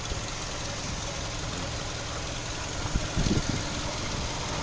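A 2008 Audi A3 1.6 MPI petrol engine with automatic transmission idles steadily with a low, even hum, plus a brief knocking flutter near the end; no one speaks.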